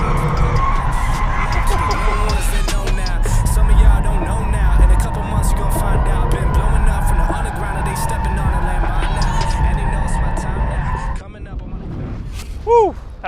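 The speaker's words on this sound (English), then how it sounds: "For a 4-wheel drive car, being able to put that in drift, literally it's called drift mode." A four-wheel-drive bi-turbo GT car drifts with loud, continuous tire skidding and engine roar up close, the squeal sustained for about eleven seconds before easing off, with brief voices and a short whoop near the end.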